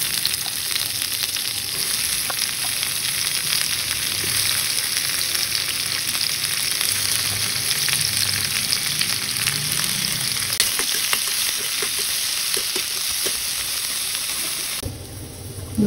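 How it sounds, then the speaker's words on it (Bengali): Garlic, chili and dried fish fry in a little oil with a loud, steady, close sizzle that runs unbroken for a long stretch and shifts slightly near the end. "আমি সবগুলো উপকরণ আসলে তেলে ভাজতে চাইতেছি"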